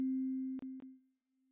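Synthesized tone played for the element carbon in a music chemistry app: a steady pure electronic pitch holds for about a second, broken by two quick clicks, then fades and returns faintly, with no talking.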